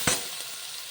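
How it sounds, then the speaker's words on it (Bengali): Onion and garlic frying in a pan for dhaba-style palak paneer: a short, sharp sizzle burst at the start settles into a steady, soft hiss of hot oil, close by, with no talk. "রসুন আর পেঁয়াজ ভালো করে ভাজা ভাজা করে নেব একেবারে সুন্দর করে ভেজে নেব"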